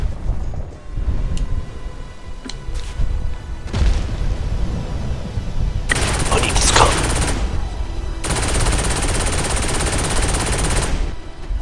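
Rapid gunfire from a Saints Row–style open-world video game, long sustained bursts of automatic fire with booming shots, loud and close, broken by short gaps.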